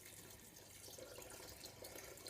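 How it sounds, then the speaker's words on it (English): Tap water running into a Morphy Richards soup maker to top it up, a faint, steady trickling stream heard alone without speech. "I'm going to top it up again with a bit more water."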